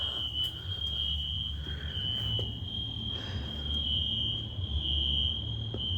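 A fire alarm sounds in an abandoned school as a continuous shrill electronic tone held steady throughout, over low rumbling background noise and faint scattered clicks.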